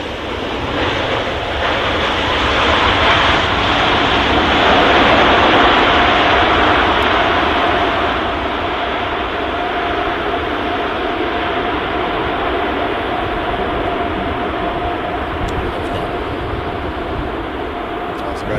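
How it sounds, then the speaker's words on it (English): An Emirates Airbus A380 lands at Manchester Airport, its broad engine roar swelling and then holding steady as a loud, continuous rumble close by, with no talk over it. "the Emirates A380 landing right in front of us"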